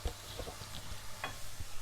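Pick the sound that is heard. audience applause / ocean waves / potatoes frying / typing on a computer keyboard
potatoes frying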